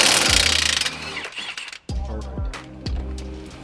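An impact wrench hammers off the bottom strut nut on a 2014 Ford Mustang GT, loud rattling bursts, three close bursts in quick succession after a noisy stretch of work.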